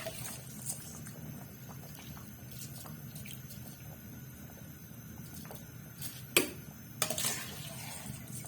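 Dry rice poured into a cooking pot for chickpea pulao in a home kitchen, with a soft, continuous rustling hiss and a few sharper clinks of utensils against the pot near the end, no talking.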